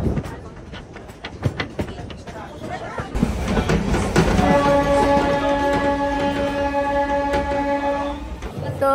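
Riding a local passenger train toward Shantipur, West Bengal: continuous wheel rumble and clatter with a long, sustained horn blast in the middle, while people talk over it.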